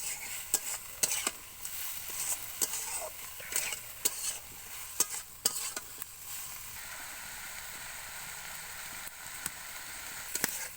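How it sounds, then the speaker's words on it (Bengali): Fried prawns with chopped banana flower and potato are sautéed in a pan, giving a soft steady sizzle broken by repeated sharp clinks and scrapes of a spatula stirring, with no voices. "দিয়ে একসাথে ভালোভাবে কষিয়ে নিতে হবে।"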